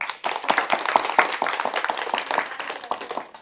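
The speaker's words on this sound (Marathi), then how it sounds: "एकदा टाळ्या वाजवा" Clapping from a group at a Vat Purnima celebration in a village, with dense overlapping claps at a steady level throughout and faint voices mixed in.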